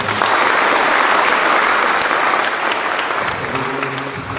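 Loud, dense applause fills a lecture hall at a polytechnic for a guest lecture on criminal justice, a sustained wash of clapping that slowly eases off.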